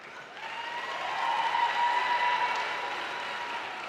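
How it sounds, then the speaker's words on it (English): Applause from a graduation audience at Lincoln University, a soft, steady patter of many hands that swells in the middle and then eases off, with a faint tonal hum running underneath. "Clap for her."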